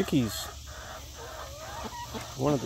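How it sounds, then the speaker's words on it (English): Chickens cluck and squawk close by in short bursts, with quieter murmuring clucks in between. "these chickens are out here picking at my feet"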